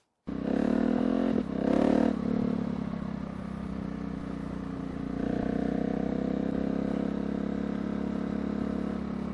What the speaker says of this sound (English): This exhaust is so ridiculously loud.